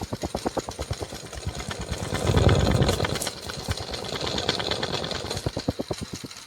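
A portable 12V DC electric tyre air pump compressor under repair runs its motor close by, giving a loud, rapid, rhythmic chugging pulse that swells in the middle and then settles back.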